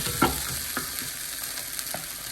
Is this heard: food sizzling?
yes